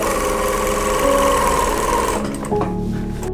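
A sewing machine stitches layers of a pad in a round seam, a loud, steady mechanical whir that shifts pitch and slows near the end.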